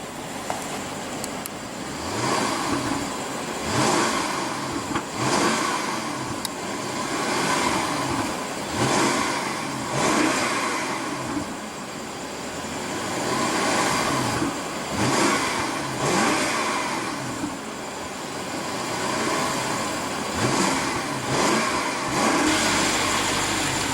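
A 2015 BMW 650i Gran Coupe's 4.4-liter twin-turbo V8 revs up and down repeatedly, a deep roar swelling and easing in waves, loud and close, with no talking.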